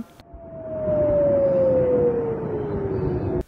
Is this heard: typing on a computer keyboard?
no